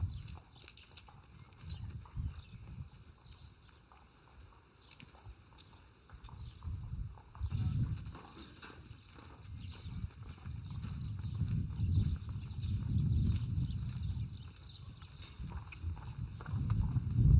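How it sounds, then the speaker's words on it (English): A three-year-old Friesian stallion moving at liberty in a lunging pen, its hooves landing in a steady, rhythmic clip-clop at moderate distance that grows slightly louder toward the end. "a 3-year-old stallion is allowed to move at liberty in a controlled setting"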